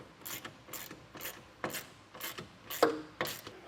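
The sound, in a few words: tightening nut and bolt on tonneau cover mount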